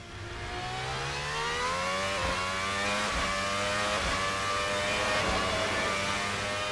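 A 3.5-litre V12 hybrid Formula 1 car engine in the Assetto Corsa racing game howls at high revs, rising through quick upshifts with brief dips between gears, loud and continuous with no talk.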